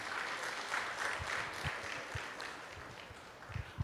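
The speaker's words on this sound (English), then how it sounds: "So give yourself a round of applause" Teachers at a convention applaud for themselves, a fairly quiet, distant spread of clapping that holds steady for a few seconds and rises briefly near the end.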